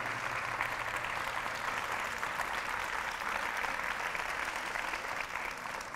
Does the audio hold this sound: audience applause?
yes